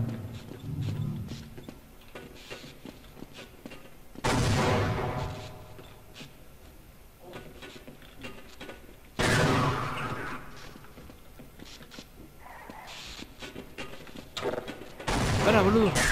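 Gunfire in the video game Half-Life: Uplink, with several loud bursts of shots at intervals over continuous game noise and background music.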